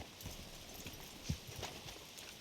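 Horse hooves clip-clop in a steady, brisk rhythm inside a video game, close by and moderately loud, with one sharper thud standing out midway through the short run of steps.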